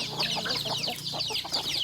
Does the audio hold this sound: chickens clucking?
yes